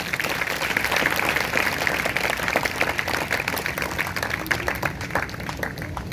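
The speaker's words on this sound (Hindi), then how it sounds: "अगर आए या तो जोरदार तालियां बजाएंगे।" A church congregation at a Sunday service breaks into sustained applause, dense steady clapping from many hands filling the room for several seconds.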